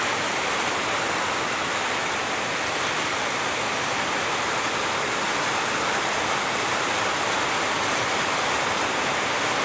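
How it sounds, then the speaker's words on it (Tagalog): Heavy rain pours steadily and loudly on a street, a dense unbroken hiss that holds at the same level from start to end with no other sounds over it. "Lakas ng ulan."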